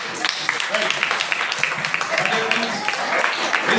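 Audience applause for a student after a kuchipudi dance performance at a school AI program event: dense, steady clapping that fills the whole stretch, with voices mixed in.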